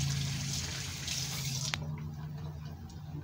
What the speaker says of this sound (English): Wash that stuff off your hands.